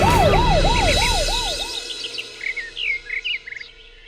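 An ambulance siren wails loud and close in a steady rising-and-falling pattern, then cuts off abruptly, leaving faint chirping birds and low background noise.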